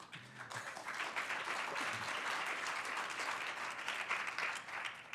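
Audience clapping at a city council district address, a steady dense round of many hands that holds at even loudness for several seconds, with a faint voice near the start.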